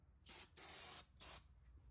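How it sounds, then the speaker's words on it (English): Brake cleaner sprayed onto a Borg Warner 44-81 transfer case surface: three sharp, close hissing bursts, the middle one longest, separated by short pauses. "Use a little bit of brake cleaner."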